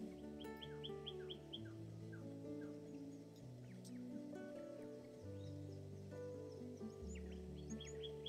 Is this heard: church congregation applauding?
no